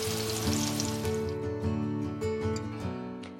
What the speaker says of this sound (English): you add about half of the amount of meatballs into the frying pan so it's not too crowded, where they will brown and not just steam.